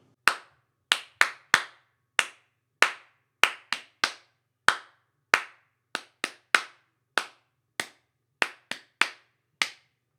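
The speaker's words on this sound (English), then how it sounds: "Let's clap that out." Sharp, close hand claps beat out a rhythm in 4/4 time, about twenty crisp claps with uneven spacing and short pauses between groups, alone with no talk.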